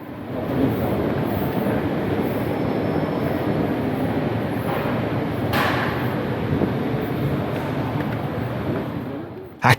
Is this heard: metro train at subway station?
yes